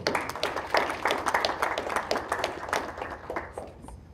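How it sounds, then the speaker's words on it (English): A modest academic symposium audience applauds a guest introducer, individual claps audible in a rhythmic patter that thins and fades toward the end. "So please give an applause to Mark Chu."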